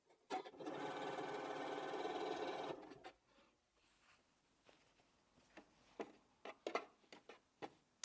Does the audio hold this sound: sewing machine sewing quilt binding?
yes